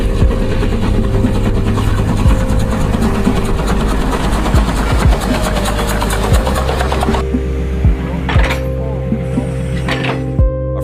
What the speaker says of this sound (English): That Swiss rotary plow uses a giant spinning blade and dedicated engines to eat through several meters of mountain snow.